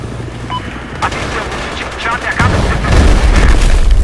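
Battlefield 4 combat with a C4 charge and gunfire: scattered shots and booms under a speaking voice, building to a dense, loud rumbling blast in the final second and a half.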